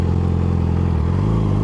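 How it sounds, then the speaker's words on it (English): A motorcycle engine idles and revs up close, a loud, steady throbbing rumble that rises slightly in pitch toward the end. "a little SMR video of just the bike revving"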